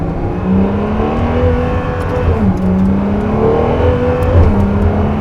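A Ferrari sports car engine revs and pulls hard, its rising drone dipping briefly at a gear shift before climbing again, loud and sustained with no voices.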